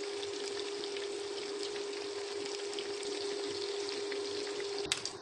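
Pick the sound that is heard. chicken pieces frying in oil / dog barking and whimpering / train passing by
chicken pieces frying in oil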